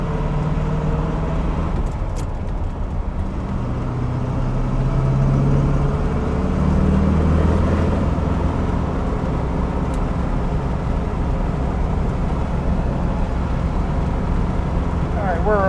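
A 1970 Corvette LT1 V8 drones steadily from inside the car while driving on a cold day, a loud, low, continuous engine hum that swells slightly as it goes.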